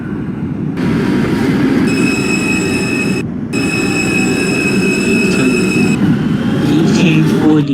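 A simulated R160A subway train on a Coney Island bound Q local run in OpenBVE rumbles steadily along the track, with a sustained high whine from the motors and a brief gap midway before the loud, even running noise resumes.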